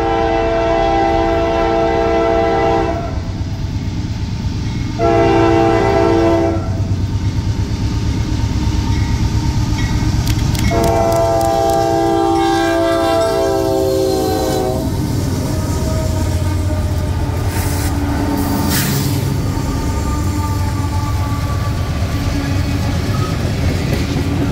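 A freight train led by an S-54G with a quad of C-6M rebuild locomotives rumbles past in Kentucky, sounding several long horn blasts in a sequence over a constant heavy rail roar.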